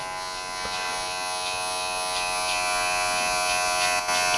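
Electric hair clippers tapering a short, grown-out buzz cut, a steady close-up buzz with brief dips and shifts as the blades move through the hair, no voices.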